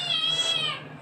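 A house cat gives a single clear, close meow that rises and then tapers off, in a quiet kitchen with no talking.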